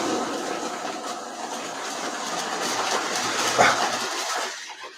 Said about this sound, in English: Let me get some trains running here and see how the audio picks up on the new setup